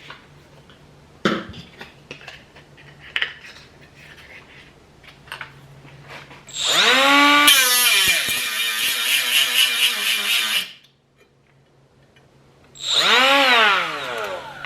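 A Milwaukee M12 cordless right angle die grinder fitted with a sanding disc spins up in two loud close bursts, a whining rise into a sustained high buzzing grind, then a pause and a shorter second run, after quieter clicks and handling.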